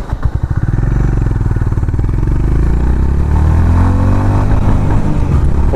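A Honda CB Hness 350 single-cylinder motorcycle pulls away and accelerates hard through first, second and third gears, its loud, close thumping exhaust rising steadily in pitch with a brief dip at each shift, no talking.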